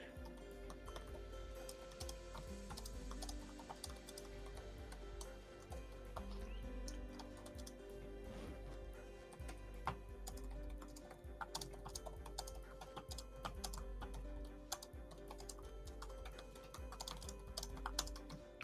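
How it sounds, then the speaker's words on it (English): Rapid typing on a computer keyboard, a quiet run of close clicky keystrokes in quick irregular bursts, faint and steady, with no talking, and a bird faintly audible in the background. "I'm typing as fast as I can."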